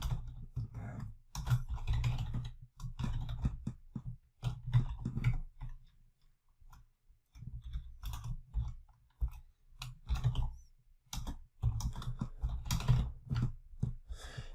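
Programmer typing code on a computer keyboard, with close, quiet bursts of rapid key clicks and brief pauses, no voices.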